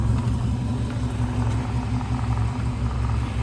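A barn-find 1982 Saab 900 Turbo engine with a misfiring cylinder runs with a steady, close, loud rumble, responding only slightly to the throttle.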